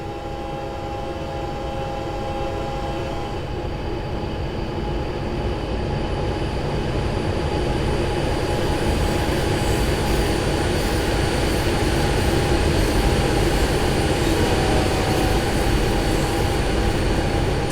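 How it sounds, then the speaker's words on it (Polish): A freight train hauled by a GP60M locomotive rolls past a railroad crossing in the Train Sim World 6 simulator on Cajon Pass, a steady heavy rumble of wheels and cars that swells slightly and holds loud throughout, with faint squealing. "Staniemy sobie tutaj na przejeździe kolejowym, poczekamy aż pociąg będzie jechał."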